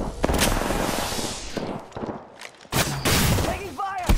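Gunfire in the battle royale shooter Apex Legends: scattered shots and thuds over busy game noise, with a quieter stretch midway before loud firing resumes. Game voice lines are heard near the end.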